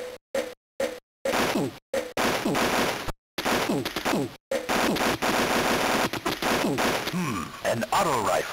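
Rapid bursts of auto rifle fire and explosions crackle through an Army Men game battle, loud and chaotic, with short gaps between volleys and sustained firing in the second half.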